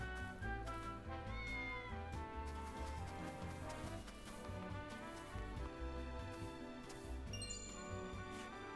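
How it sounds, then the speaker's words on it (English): A cat meowing in the video game Triangle Strategy, heard as a few faint mews set against continuous game music. "Oh, it's a cat!"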